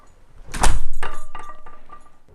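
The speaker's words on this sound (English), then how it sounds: "Now you can close the door." A door fitted with a Pineworld Q106 Bluetooth fingerprint smart lock swings shut with one close, fairly loud thud and latch click, followed by a brief rattle and faint settling noises, no talking.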